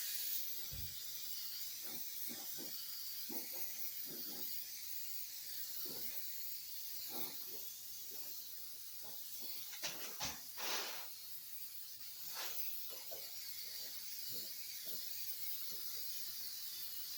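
An aerosol spray can is applied to the body of a 1966 Ford Mustang with concealed damage. Short, faint hissing bursts repeat irregularly, with a few longer sprays in the middle and no talking.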